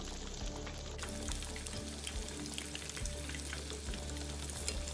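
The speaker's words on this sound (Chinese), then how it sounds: "整个完整油炸过程约10分钟左右，煎中必须不停将肉块翻面" Pork belly pieces deep fry in hot oil for Hakka fried pork, with the meat turned over constantly, giving a continuous close bubbling sizzle with occasional crackles and stirring sounds.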